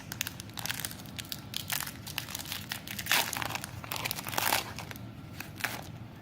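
An Eldritch Moon booster pack wrapper is torn open, producing continuous close crinkling and crumpling of foil plastic with sharper rips and crunches, loud and alone without talk.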